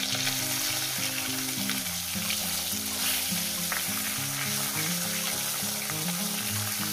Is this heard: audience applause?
no